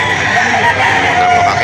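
A Golden Boy line gamefowl rooster crows loudly and continuously close by, a strained, sustained call over a busy, noisy background at a poultry auction market in Lipa.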